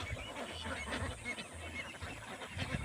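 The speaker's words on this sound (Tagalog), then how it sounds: "yan na lahat ang mga alagang itik natin" A large flock of more than 700 pet ducks gives repeated nasal honking calls, overlapping in an irregular rhythm and heard faintly from a distance.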